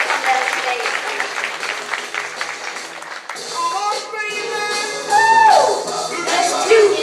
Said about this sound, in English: y'all give these people a big round of applause